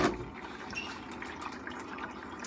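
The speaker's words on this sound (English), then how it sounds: "let's go ahead and pop this off and let that water drain out" Water trickles and drips out of a FASS fuel filter being removed from a Duramax diesel, a faint, close, uneven dribble after a brief louder knock at the start.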